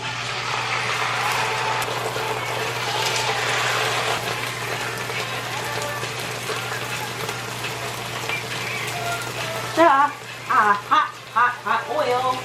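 Salmon coated with mustard spread frying in hot oil, a steady sizzle and crackle that runs through most of the clip, then quieter as a few voices speak near the end.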